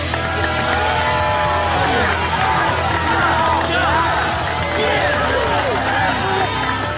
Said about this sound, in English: This is a fake crowd stock noise